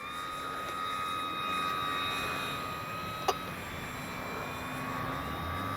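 A Dynam BF-109 RC model warbird airplane running on a 4S battery takes off and flies, its electric motor giving a steady, fairly loud whine with a single sharp click partway through.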